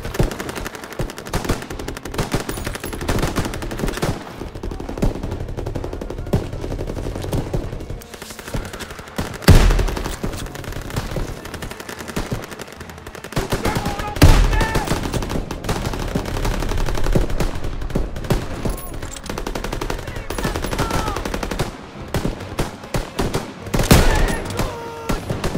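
Sustained machine gun fire in the Call of Duty WWII game, dense rapid bursts continuing throughout with occasional louder cracks, no talk.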